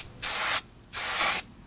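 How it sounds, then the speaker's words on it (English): Brake cleaner sprayed onto the rear brake assembly of a 2001 Chevy Silverado 1500 4x4 during a pad and rotor job, two loud close hissing bursts with a short pause between them. "I try not to spray too much on the pad material itself or saturate that too much, but it's good just to kind of knock off some of that dust"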